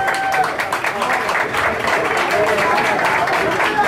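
Audience applauding a dance couple on a dance reality show, dense continuous clapping with crowd noise and cheering voices mixed in throughout.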